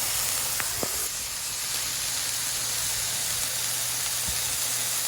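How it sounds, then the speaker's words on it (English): Burger patties sizzle on a griddle for an In-N-Out Flying Dutchman copycat, a steady close hiss with a few faint clicks. "Up close sizzle action."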